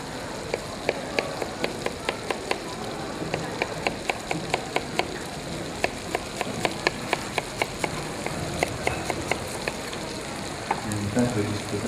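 Spring onions sizzle and crackle in a hot pan beside a steak, a steady dense frying hiss dotted with sharp popping spits throughout, close and moderately loud with no talking.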